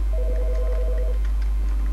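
An office telephone in The Stanley Parable video game sounds a steady electronic tone for about a second, then falls quiet against a low hum. No one talks over it.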